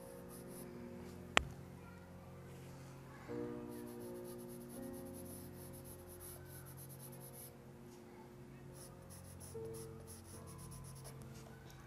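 A charcoal pencil shades hair on kraft paper in a portrait drawing, giving soft continuous scratchy rubbing strokes with one sharp tap early on. The strokes are faint and close, with no voices over them.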